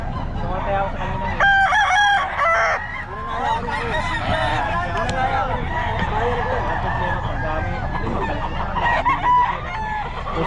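Several roosters crow repeatedly over a busy poultry yard in Bustos, Bulacan, with overlapping calls near and farther off amid clucking and honking fowl and a constant background murmur.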